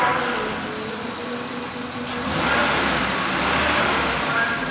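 A Chery Eagle 580 car, smoking heavily, drives in with its engine running, a steady mid-pitched motor drone that swells louder as it approaches.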